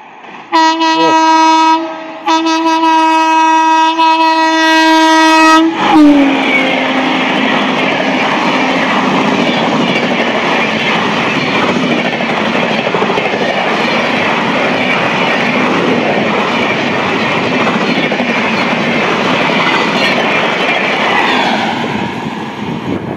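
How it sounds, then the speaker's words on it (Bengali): Jammu Tawi–Howrah Himgiri Express blasts its horn in long loud tones, then roars past at speed on a 130 km/h line, a sustained close rumble and clatter that fades slightly at the end. "ডাউনে এটা আসছে জম্মুতাই হাওড়া হিমগিরি এক্সপ্রেস।"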